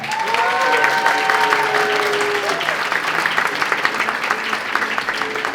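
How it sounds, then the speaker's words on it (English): A graduation ceremony audience gives a big round of applause, dense and sustained clapping from a large crowd that continues without break, with faint tonal sounds briefly rising above it early on. "Let's give each of them a big round of applause"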